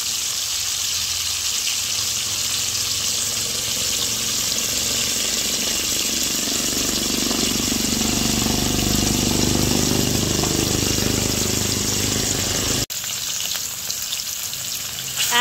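Salmon fish frying in a pan gives a steady, loud hissing sizzle that holds without pause, swelling slightly in the middle, with a faint background hum and no talking.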